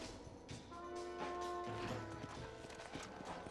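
Horses' hooves clopping in the Western video game Red Dead, a soft, steady patter of several hooves under a low rumble and game music, fairly quiet and distant, with no voices.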